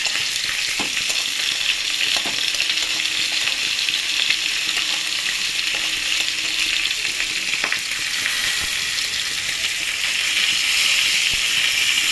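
Garlic paste stir-fries in a pan for a katla fish and potato dish, a loud, continuous hissing sizzle with occasional scrapes and taps of the spoon throughout.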